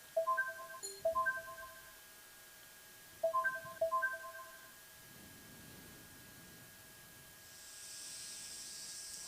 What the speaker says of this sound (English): My phone rings.